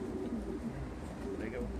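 Pigeons cooing inside a Belgian racing pigeon loft, soft low repeated coos under a steady background murmur and nearby talk.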